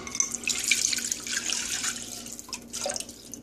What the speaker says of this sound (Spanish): Lo primero que vamos a hacer es que vamos a poner el caldo de pollo.